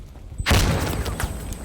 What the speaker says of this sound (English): we're seeing good grenades coming out from enemy West on the counters